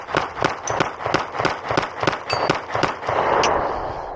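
A Glock pistol fires a rapid string of about a dozen sharp shots outdoors in snow, loud and evenly spaced, ending in a brief rumbling tail.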